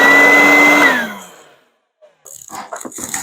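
A RIDGID 6.0 HP 14-gallon wet/dry shop vac runs loud and steady, then spins down to silence; talking follows after a short pause.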